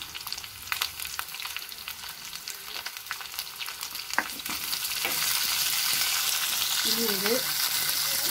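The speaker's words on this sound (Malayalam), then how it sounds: "ഈ സവാള നല്ലതായിട്ട് വഴറ്റിയെടുക്കണം." Sliced onions sautéing in a pan for a Kerala netholi (anchovy) stir-fry, a steady close sizzle that grows louder and denser midway, with occasional spatula scrapes and a brief spoken word early on.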